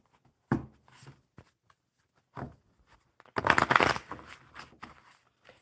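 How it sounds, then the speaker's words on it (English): Playing cards are shuffled close up: a few soft riffles and taps, then a longer, louder ruffling shuffle. "let me get these shuffled up really good."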